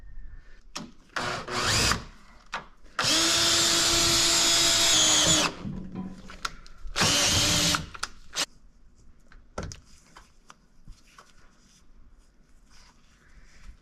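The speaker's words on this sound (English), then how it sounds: "use the existing soft top here as my guide to locate and drill this hole" A power drill whirs in a few bursts, drilling a hole for fitting a Jeep TJ soft top: short revs, then a long sustained drilling run and another shorter one, followed by quiet handling clicks.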